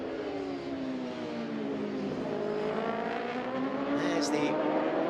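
Racing motorcycles roar at an IDEMITSU FIM Asia Road Racing Championship round at Buriram, engines rising steadily in pitch as the closely matched machines accelerate along the track, loud and continuous with commentary spoken over them.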